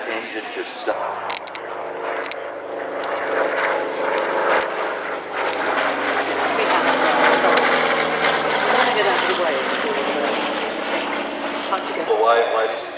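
A B-47 aircraft flying past at an air festival, its loud sustained engine roar swelling and fading over several seconds, heard under an announcer's voice on a public address system.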